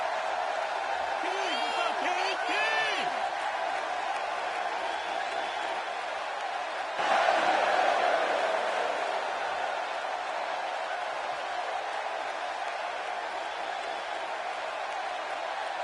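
An arena crowd in the WWE 2K16 wrestling game roars in a constant, dense wash of cheering with a brief swell partway through, while a commentator talks over it.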